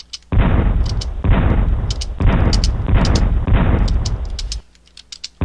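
Rapid bursts of small-bullet gunfire from an arcade-style video game come in four loud, sustained volleys, each lasting about a second, with brief gaps between them and a quiet tail.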